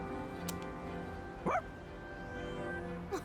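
Koromaru, a dog in the Persona 3 Reload video game, gives one short bark at middle distance over a steady bed of game music, followed later by a faint second yip.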